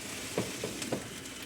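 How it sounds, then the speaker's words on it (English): Turkey boiling in a pot on a stove gives a faint, steady bubbling hiss with a few soft pops, close and quiet. "turkey is still boiling, still cooking."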